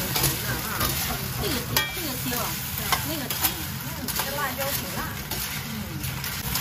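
Food stir-fried in a wok during a home-cooked holiday meal gives a close, continuous sizzle with scraping stirring, while several people chat over it.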